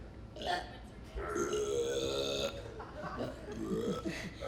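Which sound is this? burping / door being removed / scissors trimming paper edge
burping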